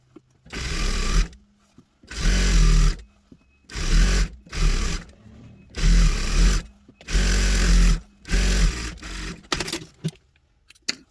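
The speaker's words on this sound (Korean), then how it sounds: "이렇게 해서 아까 위에 뭐 밑단처럼 한번더 눌러서 박음질 해주세요" A sewing machine stitches the waistband of handmade baby clothes in seven loud, rapid bursts of about a second each, separated by short pauses, close by and with no speech.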